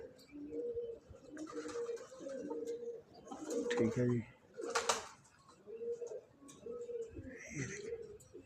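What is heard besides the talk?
pigeons cooing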